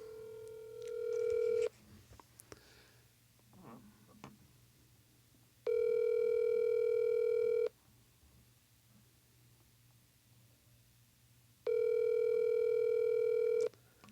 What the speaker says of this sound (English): There's 3 rings, Kyle.